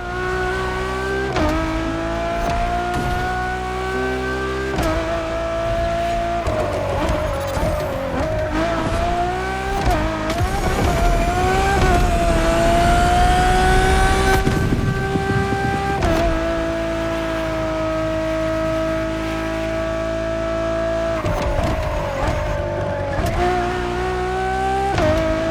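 A Ferrari road-legal F1-style supercar howls through a racing video game, its engine note rising and falling through gear changes with tire squeal, loud and continuous with no talk.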